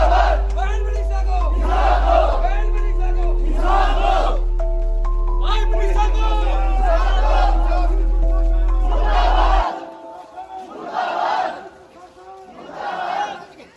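A protest crowd in Kadma, Charkhi Dadri, chants and shouts in loud rhythmic bursts, rising and falling together, with a heavy low rumble under the first part before the chanting carries on more thinly.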